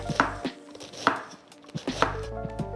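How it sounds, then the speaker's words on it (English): Cabbage being chopped with a knife on a board for a boil up, giving three heavy, evenly spaced chops with lighter knife taps between them, close and clear, with no speech. "I'm going to chop the cabbage and then add the watercress and the cabbage to my boil up"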